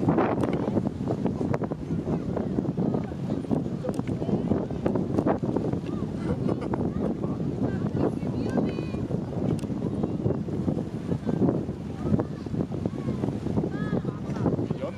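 Strong wind gusting by the sea at Ganghwa, a steady rumbling buffet of air against the microphone with water and surf beneath, continuous and loud throughout, with faint voices in the background.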